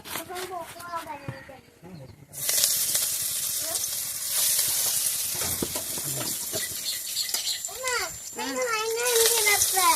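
Pakoras dropped into hot oil set off a loud, steady sizzle and crackle of frying, with people talking before and over the cooking, including a voice.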